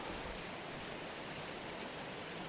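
Waterfall at Cross of Greet, a steady broadband roar of falling water that holds constant and unbroken throughout, fairly faint and heard from some distance, with no voices.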